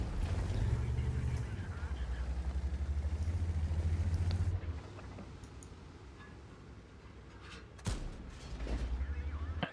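Tank cannon fire in a tank video game during a clan war battle, heavy booming shots over a continuous low engine rumble, with a sharp blast near the end and the rumble swelling again.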